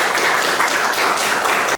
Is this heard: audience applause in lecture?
yes